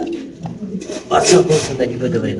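Soft, low cooing of caged pigeons at a pigeon market, mixed with nearby people talking, continuous and close throughout.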